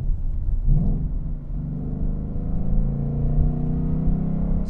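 A deep, steady V8 engine rumble from a 2021 Ford Mustang GT idles close by, low and throaty with a slight rise in pitch, continuing without pause.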